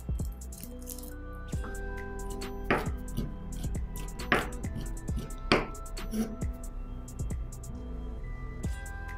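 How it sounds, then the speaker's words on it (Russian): Dill, parsley, green onion and garlic being chopped on a board for a pelmeni filling, with sparse quiet knife taps and a few louder thuds over a low background hum, no talk. "Веточку укропа, петрушки, немного зеленого лука. И все это измельчаем."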